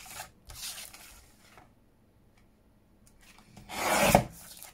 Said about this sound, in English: I'm just going to get my trimmer and just cut that off